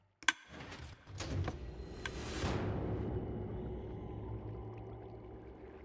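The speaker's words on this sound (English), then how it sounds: "The sound effects themselves are the same kind of like lever ka-chunk sound, layered with a little sample of one of the sound effects" Minecraft's drowsy difficulty sound, a lever ka-chunk layered with a note block sample, opens with a sharp click followed by a swelling, washy tone that settles into a low steady drone, fairly quiet overall.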